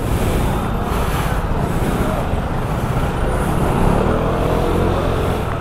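Road traffic heard from a riding motorcycle: continuous loud broadband roar of engines and wind with passing vehicles, steady throughout with no gaps.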